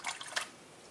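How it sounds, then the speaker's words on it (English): Aquarium tank water is poured from a cup into a plastic fish bag, making a brief soft splash and trickle with a couple of small spurts near the start, faint and without talking. "You're going to add a little bit of water to the bag every couple minutes."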